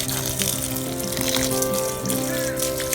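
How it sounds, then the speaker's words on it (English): Steady splashing water from watering herb plants in a garden before planting, continuous and fairly close, with faint talk in the background. "So I'm watering the plants well before I plant it."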